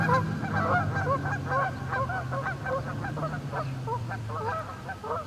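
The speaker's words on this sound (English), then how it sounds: "What is the mantra that the geese are calling out?" A loud flock of geese honks repeatedly and overlapping in a busy continuous chorus outdoors at a festival, calls coming thick and close with no talk.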